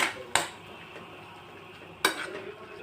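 A spoon mixing masala into mashed potatoes in a pan for Kutchi dabeli filling, with two sharp metallic scrapes or clanks against the pan separated by quieter soft stirring.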